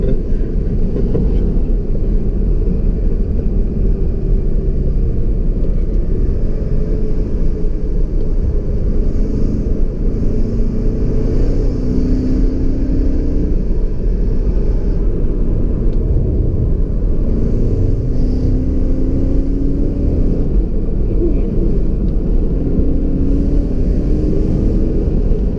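An old BMW E39 540i V8 with a manual gearbox, running on winter tires on a hot day, cruises along with a steady, continuous low engine and road rumble heard from inside the cabin.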